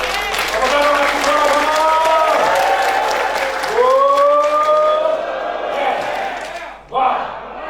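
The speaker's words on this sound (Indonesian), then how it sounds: "Tepuk tangan untuk Mas Ibo." Applause and cheering from a room full of people for a guest being honoured at a motivational seminar, loud and steady over about seven seconds beneath voices shouting, dropping briefly before a final burst.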